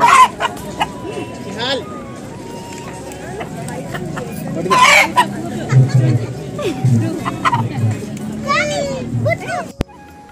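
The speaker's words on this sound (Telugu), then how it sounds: "ఇక్కడ కోడి పుంజును పట్టుకోవడానికి మాత్రం ఏమాత్రం భయపడకుండా ఫ్రీగా వెళ్ళిపోయాడండి జోహి మాత్రం." Chickens cluck and squawk among lively children's voices and chatter at a Sankranthi celebration in Bengaluru as a rooster is caught, with bursts of movement and a sharp knock near the end.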